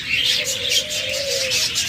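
Pet budgerigars, cockatiels or lovebirds chirp close by, a bright chattering twitter layered with a sustained whistled note, steady over a short stretch.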